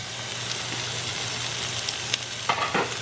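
Chicken thighs searing over raised heat in a pan, a steady loud sizzle and crackle with a few sharper spatters and stirring clicks toward the end.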